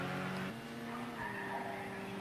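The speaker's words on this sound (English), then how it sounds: "Bit of drifting." A touring race car drifts in Project Cars 2, its tyres squealing in long sustained tones that shift pitch over a steady engine drone, with no talk.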